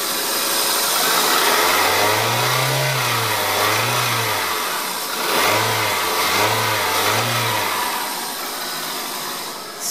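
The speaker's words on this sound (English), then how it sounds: "rev it up from out here so you can hear it better" A 2002 Toyota Corolla engine revs five times in quick succession, each rise and fall a distinct swell over a quieter idle, heard from outside the car at moderate distance.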